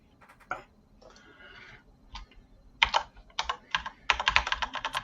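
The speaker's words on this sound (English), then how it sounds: "You can hear Trev typing to this one." Close clicking of a computer keyboard, with short irregular bursts of typing that speed into a dense run of keystrokes toward the end.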